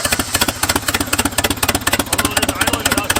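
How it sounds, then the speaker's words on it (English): An 80-year-old abandoned Jeep engine idles roughly, loud and close, with rapid uneven chugging pulses and knocking that thump in an irregular rhythm throughout. "it is idling without jump now"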